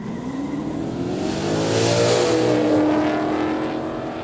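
A car runs on a racing track at a quick street day event, its engine revving and rising in pitch as it accelerates past. The sound stays loud and continuous, with a faint tire squeal and no talk.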